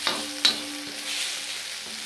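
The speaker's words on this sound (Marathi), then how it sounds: "आता हे कांदा टोमॅटो वगैरे व्यवस्थित सगळं परतून झालेलं आहे बघा" Onion and tomato masala is sautéed in a pan with a soft sizzle, and a couple of sharp spoon scrapes and stirs land early on.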